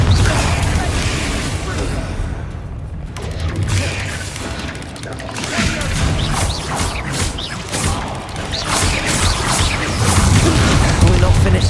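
Confringo explosive spell blasts in the Hogwarts Legacy video game, loud booming impacts and crashing debris rumbling through a dense, continuous game soundscape, with occasional mechanical clanks mixed in.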